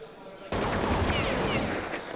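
Rapid automatic gunfire from the video game Counter-Strike 1.6 bursts in suddenly and continues densely, loud and close, as a tournament match plays out.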